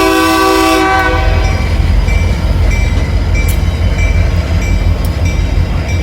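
A diesel locomotive, including an SD50 and an old Union Pacific Triclops, rumbles past close by, its multi-tone horn blaring loudly at first before giving way to steady engine drone and rolling wheel noise.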